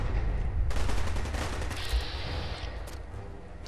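Gunfire in the Fallout 4 video game: a loud, continuous burst of shots with a dense rattling texture, sustained for several seconds with no speech over it.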